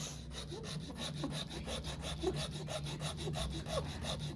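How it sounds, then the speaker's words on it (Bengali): Sandalwood being rubbed into paste against a stone, heard as a steady run of quick, rhythmic scraping strokes, close and moderately loud, with no talking. "চন্দন ঘষছি"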